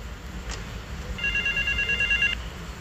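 A phone booth telephone rings in Grand Theft Auto 3, a bright electronic trill lasting about a second over low background hum, close and clear, with no voices.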